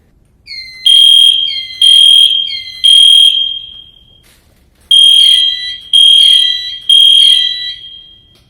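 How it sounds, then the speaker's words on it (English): Loud electronic school fire alarm sounding in three-beep bursts, a pause, then three more bursts of shrill high-pitched tones. "Sometimes a drill is signaled solely by the fire alarm."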